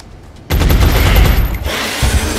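Heavy soldiers in the XCOM video game launch missiles in a loud, sustained burst of explosive gunfire-like blasts that starts abruptly and rolls on for about two seconds, with no talk.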